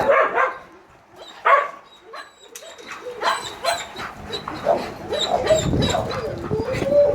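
A skittish dog lets out a string of sharp, uneven barks mixed with high whimpers and yips, fairly close and loud, with no talking.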